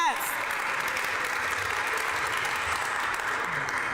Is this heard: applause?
yes